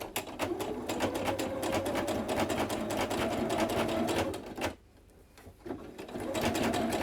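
A sewing machine stitches stretchy knit fabric in rapid rhythmic bursts of close mechanical clatter. It pauses briefly near the end, then starts up again.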